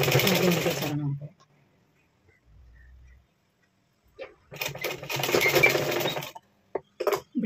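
A sewing machine stitching a blouse runs in two quick bursts of rapid, close mechanical whirring, separated by a quiet pause with a faint low hum, then ends in short clicks.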